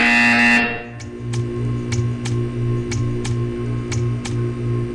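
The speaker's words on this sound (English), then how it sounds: "You will hear a buzzer." After a tone cuts off, a low electronic buzzer in the video game Portal 2 pulses repeatedly in an even rhythm, with faint ticks marking each beat.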